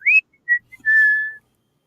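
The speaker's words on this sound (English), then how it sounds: "I think I got the whistle." A whistle sounds in three short, clear toots, the first rising and the last held longest, crisp and close in otherwise silent surroundings.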